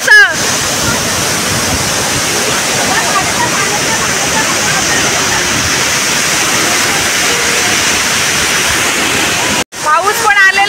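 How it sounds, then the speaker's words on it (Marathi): A large waterfall roars in a steady, loud, broadband rush at close range during rainy, cold weather, continuous throughout before a brief cut near the end, where a voice briefly talks. "मस्त धबधबा आहे. खूप मोठा धबधबा आहे."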